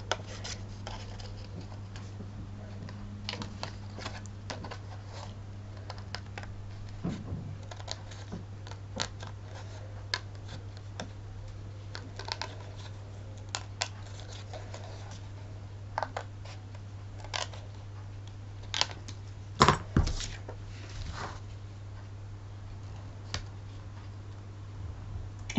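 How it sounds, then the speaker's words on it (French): Pinking shears cut through fabric in a sewing session, giving scattered close snips and rustles of cloth over a steady low electrical hum. "je me sers de ciseaux. On appelle ça des ciseaux pinces"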